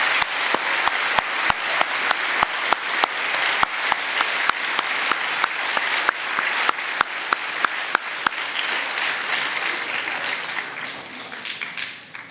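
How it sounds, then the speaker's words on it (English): An audience at a school end-of-year awards day applauds honor roll students with sustained, dense clapping and a few sharp claps standing out, fading slightly toward the end. "Let's give a round of applause to our B Honor Roll students."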